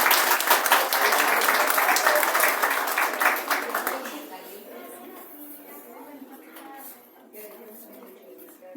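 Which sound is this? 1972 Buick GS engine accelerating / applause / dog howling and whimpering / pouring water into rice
applause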